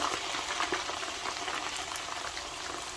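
Chicken pieces for restaurant-style chilli chicken frying in hot oil, giving a steady, dense bubbling sizzle with scattered crackles and pops that runs unbroken throughout.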